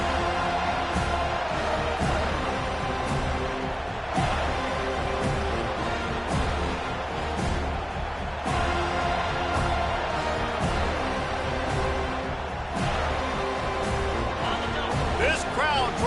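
A large football crowd at an FSU vs LSU game roars steadily near kickoff, loud and continuous from start to end, with a commentator talking over it.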